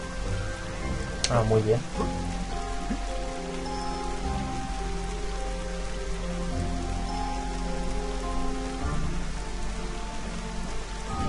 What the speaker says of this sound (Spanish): para ser un juego de PlayStation 1 que hayan conseguido hacer la lluvia